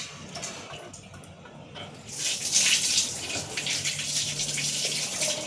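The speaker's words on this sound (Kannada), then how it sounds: "ನೀಟಾಗಿ ನೀರು ತೆಗೆದುಬಿಡೋಣ." Water is poured off washed, soaked rice in a kitchen: a faint trickle gives way to a louder, steady splashing pour that continues to the end.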